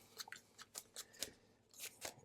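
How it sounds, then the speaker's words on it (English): A deck of game cards being shuffled by hand for a tabletop card game, heard as a quiet run of short crisp riffling and snapping bursts at an irregular rhythm, close and alone with no talking. "we're going to go ahead and get all of these cards shuffled"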